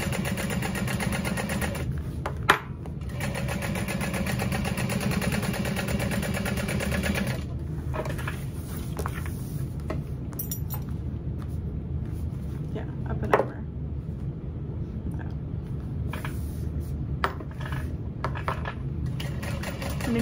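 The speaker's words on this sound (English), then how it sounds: "And then we're just going to sew around" A sewing machine stitches around a backpack strap in a steady mechanical whir that stops and starts with a few clicks and a brief pause partway through, and no one speaks.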